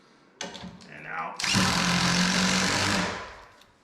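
A power drill drives a screw into a pilot hole in a wooden door, with a short whir first, then a louder, sustained buzzing run of about a second and a half that winds down at the end.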